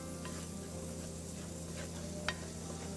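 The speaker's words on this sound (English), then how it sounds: "You want to see everything frying." Spices for shakshouka fry in a pan over medium-high heat, giving a continuous close sizzle with faint stirring scrapes and one brief clink, with no talking.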